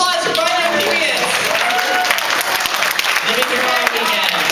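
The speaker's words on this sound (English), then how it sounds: "Give a round of applause" Convention audience applauding during an anime convention opening ceremony, loud close clapping from a crowd with cheers and voices mixed in, swelling and holding throughout.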